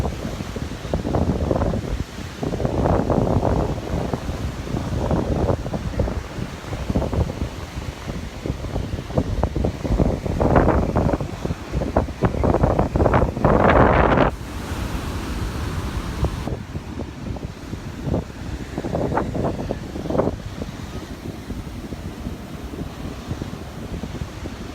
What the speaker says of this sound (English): These waves are so strong.